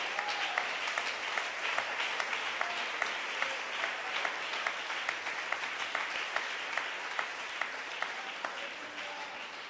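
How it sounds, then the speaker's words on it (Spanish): A church congregation applauds during a sermon, dense, steady clapping that is moderately distant and continuous throughout, with a faint voice beneath. "¿Alguien puede dar mejor ese aplauso al Señor?"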